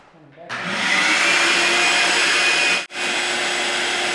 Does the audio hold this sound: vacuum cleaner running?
yes